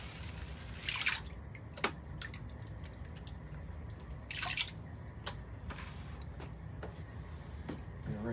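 Water splashes and trickles over paydirt in a gold pan, with a steady wash and a few sharper splashes and drips, close and moderately quiet, no talking.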